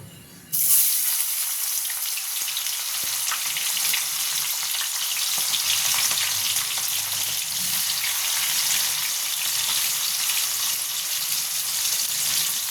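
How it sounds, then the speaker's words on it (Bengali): Chopped onion sizzles steadily in a hot pan for chicken keema, a dense, even frying hiss that holds at constant loudness throughout with no voices. "পেঁয়াজটা আমি একটু লাল লাল করে ভেজে নেব।"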